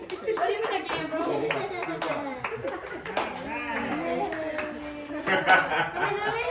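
At a family birthday party, small hands clap in quick irregular bursts while adults and someone talk and chuckle nearby, the claps sharp and close against ongoing chatter.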